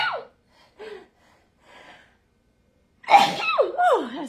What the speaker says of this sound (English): Oh, that's a good sneeze.